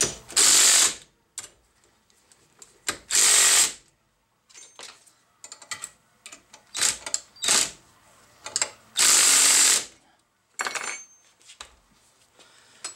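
A ratchet wrench tightens a bolt on a laser-cut brake bracket in several loud, close bursts of rapid clicking, separated by quieter metallic clinks and handling noises, with no talking.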